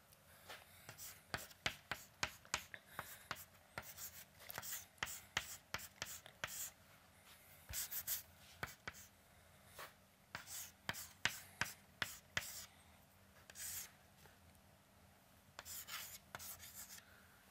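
Chalk or marker taps and scratches out equations on a board during an engineering lecture on powder compaction, a quiet, irregular series of short strokes in a hushed room.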